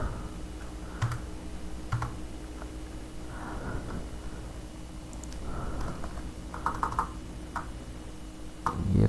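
Keys clatter on a computer keyboard while HTML anchor-tag notes are typed, irregular clusters of soft clicks with short pauses between bursts, close but quiet, with no speech over them.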